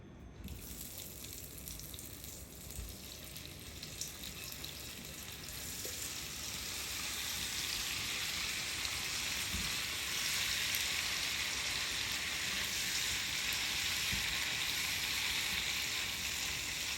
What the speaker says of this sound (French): Une fois que notre huile aura chauffé, on viendra du coup déposer nos crevettes.